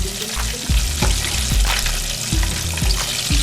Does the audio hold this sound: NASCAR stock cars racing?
no